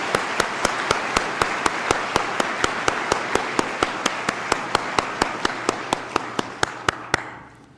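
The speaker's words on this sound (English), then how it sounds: "Applause for the Columbus Division of Police from Fire Pipes and Drums." At a police recruit class graduation, a steady crowd applause wash runs under a regular, evenly spaced series of sharp loud beats, like a drum marking time, before fading at the end.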